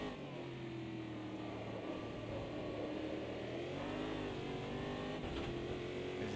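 A Brazilian Stock Car race car engine in a racing video game at the Campo Grande circuit, accelerating continuously with a loud, sustained mid-pitched roar. The engine pitch shifts up and down through gear changes with no pauses.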